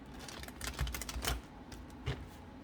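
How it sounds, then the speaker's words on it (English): Quiet, rapid clicking and riffling bursts, like a deck of cards being shuffled close by. "I'll put this one back and shuffle again."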